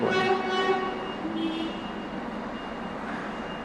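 A truck beeps with a steady tone over a low engine rumble; the beeping fades partway through.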